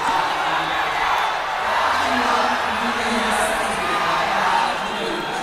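A 10,000-strong Chinese crowd at a League of Legends esports match between I May and Team WE roars with a steady, massed chant, loud and continuous in a large arena.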